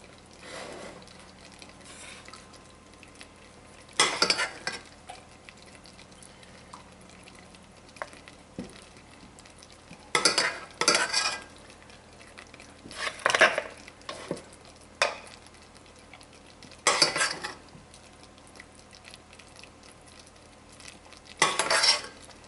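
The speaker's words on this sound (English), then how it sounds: "I'm going to spoon out now into each pocket here." Thick cashew caramel spooned into the pockets of a chocolate mould, giving scattered scraping and clinking spoon strokes in short bursts against a quiet background, with no talking.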